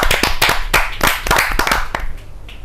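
A poetry gathering (kavi sammelan) audience claps in close, loud, uneven bursts of sharp hand slaps that gradually fade over a couple of seconds.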